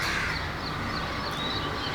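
Crows cawing repeatedly at sunrise, harsh calls over a dense, steady wash of background birdsong, fairly loud and close throughout.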